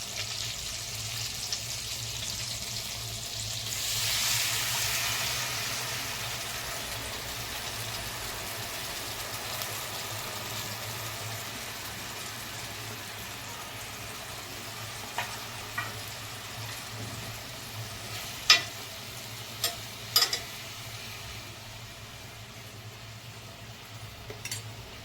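Masala gravy with about a cup of added water cooks in a pan of stuffed brinjal curry with kolim, a quiet steady simmer and faint sizzle with a few soft clinks of a spoon toward the end.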